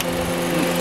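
A car engine idles with the air conditioning set to its lowest temperature, a brief steady mechanical drone and whir heard up close.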